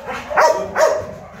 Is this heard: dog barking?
yes